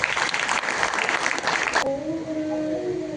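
Audience applause at a Vachana music festival in Karnataka: a loud, dense burst of clapping that stops abruptly partway through, followed by a faint lingering tone and room noise.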